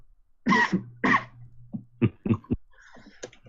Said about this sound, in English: I cough all the time